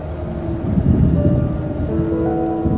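Steady rain falls over a low rumble like distant thunder, a continuous wash of drops serving as a sound effect in a Bengali audio horror story.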